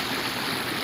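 A mountain waterfall stream at Ban Na Ang rushes in a dense, continuous wash of water noise that is steady and close, with no voices.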